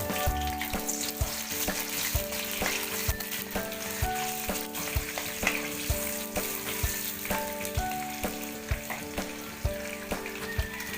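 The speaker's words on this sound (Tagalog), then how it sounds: "Magigisa na tayo. Unahin natin yung bawang." Garlic sautés in a pan for bopis, a close, steady crackling sizzle with frequent sharp pops and ticks of a utensil against the pan throughout.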